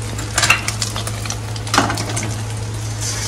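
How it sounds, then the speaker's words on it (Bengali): An omelette frying in a kadai wok gives a quiet, steady sizzle with a couple of brief scraping stirs near the start and middle, over a constant low hum. "মা এখানে কড়াইতে অমলেট করছে"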